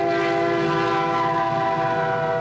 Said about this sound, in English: The white train carries nuclear warheads, moving them from their final assembly point in Amarillo, Texas, to submarine and other military bases.